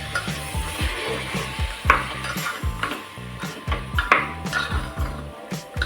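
A spoon stirs cauliflower and peas into sizzling pav bhaji vegetables in a pan, giving a rhythmic series of scraping, clinking strokes over a steady fry, close and fairly loud with no talk.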